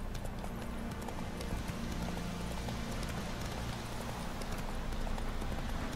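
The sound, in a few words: horse Roach galloping in video game The Witcher 3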